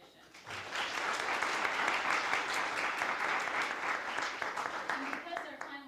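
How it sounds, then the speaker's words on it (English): Audience applause for competitors at the 2026 Manley Brown Finals: a sustained, dense burst of clapping that rises quickly, holds steady for several seconds, then thins toward the end. "I hope you join me in just a quick round of applause to everyone who has competed so far in this competition"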